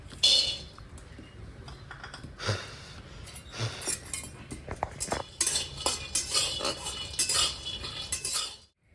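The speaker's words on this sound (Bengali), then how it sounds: "সবারই আগে আমি চিনাবাদাম ভেজে নেবো।" Peanuts are fried and stirred in a metal pan, giving irregular scraping, rattling and clinking strokes at close range, some sharper than others, with no voices.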